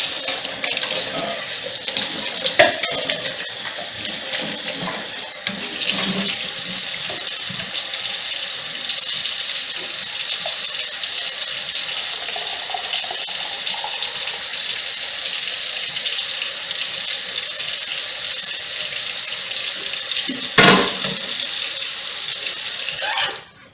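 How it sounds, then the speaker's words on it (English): Banana pudding mixture is poured into a measuring cup in a home kitchen, giving a steady liquid pouring and trickling sound that runs almost the whole clip before stopping abruptly. "I'm going to go ahead on and pour my mixture, my banana pudding, in my little measuring cup"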